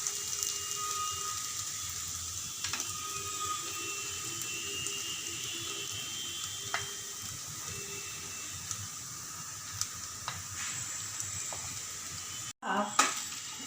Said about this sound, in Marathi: हा 2 मिनटं परतून झाला की त्याच्यावर मी ते ओलं खोबरं टाकते, ते पण परतून घेते।